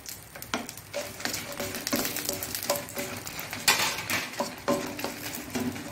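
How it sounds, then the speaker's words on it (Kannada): Curry leaves and peppercorns frying in coconut oil in a pan, a continuous close sizzle broken by frequent spoon clinks and scrapes against the metal. "ಕರಿಬೇವು ಚೂರು ಫ್ರೈ ಆಗುವಾಗ ಈ 12 ಮೆಣಸನ್ನು ಸಹ ಹಾಕೊಳ್ತಿದ್ದೇನೆ"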